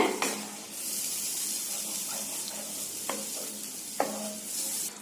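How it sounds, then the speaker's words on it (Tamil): A steady hiss of coconut milk fish curry simmering in a hot pan, with a few soft clinks of a utensil against the side. "தேங்காய் பால் ஊத்தி கொதிக்க ஆரம்பிக்குது பாருங்க."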